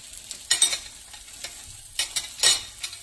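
Tomatoes fry in a pan while being stirred, with soft sizzling and a few louder scraping stirs spaced about a second apart, close and without talk.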